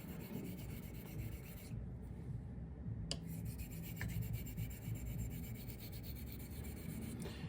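Filarmonica 14 straight razor honed on a Les Petas coticule stone, a steady continuous rasping rub of steel across the stone, close and even throughout.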